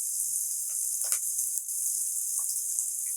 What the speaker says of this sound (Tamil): வதங்கும் போதே கொஞ்சம் சோம்பு போடலாம்.